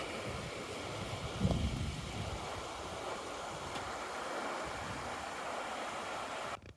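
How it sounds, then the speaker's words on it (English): The Waptus River flows in a mountain forest as a continuous, even rush of water, fairly distant and uniform throughout, with no talk. "Well, this is Waptus River."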